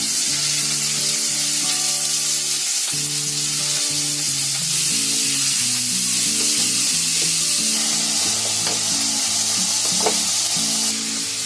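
Three large, finely chopped onions frying in a pan, a loud, steady, close sizzle with occasional stirring scrapes, continuous throughout with no talking.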